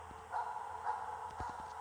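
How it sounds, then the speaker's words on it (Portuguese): Dog barking inside the Five Nights at Freddy's 4 video game, a few short barks and yips over a steady low game hum, moderately loud. "Odeio desse cachorro late."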